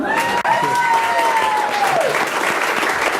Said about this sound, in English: could we have another big round of applause for the beautiful Michelle? And a big round of applause for the death-defying John Bryan